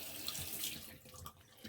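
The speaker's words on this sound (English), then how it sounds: "And then I go ahead and just rinse off my aligner" Warm tap water running from a faucet to rinse an Invisalign clear aligner, a steady close splashing stream that shifts as the aligner moves under the flow, with no talk.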